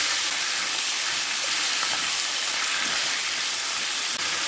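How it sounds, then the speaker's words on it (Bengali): Potato and Malabar spinach stems fry in mustard oil with nigella seeds and bay leaves, making a loud, steady, close hiss that holds evenly throughout with no talking. "আর দেবো কেটে রাখা আলু আর পুঁই শাকের ডাঁটা।"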